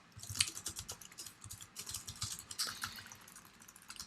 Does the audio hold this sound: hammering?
no